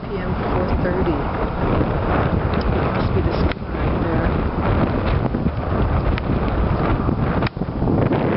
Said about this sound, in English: But just a little windy.